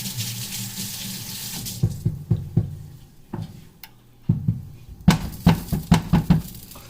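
Tap water runs into a sink while a silicone spatula is washed, a rushing stream at first that drops away, followed by a series of close knocks and clatters as the utensil is handled.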